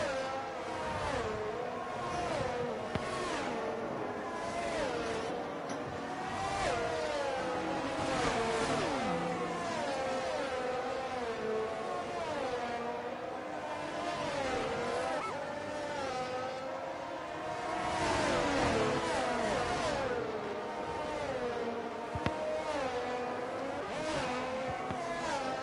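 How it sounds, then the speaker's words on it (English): Several race cars in an online racing game league at the Italy round run engines continuously, revving and shifting as they warm their tyres, with a steady layered engine drone throughout and no talk. "As we watch the cars warm up their tyres"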